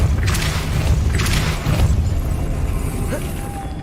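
A Depulso spell cast in the wizarding game Hogwarts Legacy, heard as two broad bursts with whooshing blasts early on, followed by a lingering low rumble and softer mechanical noise toward the end.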